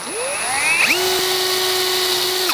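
A power drill drives V1 screws into garden shed panels, its motor whining up to a steady high pitch, pausing briefly, then spinning up again and holding close and loud.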